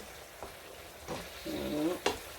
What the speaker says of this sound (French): On laisse cuire tout doucement. Je mélange bien là.